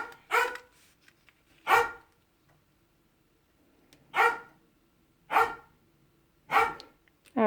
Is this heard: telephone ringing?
no